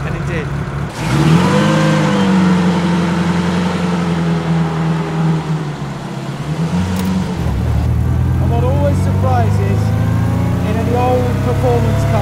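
A vintage Bugatti engine runs after starting, a loud close throbbing drone that shifts pitch as it revs, with talking over it.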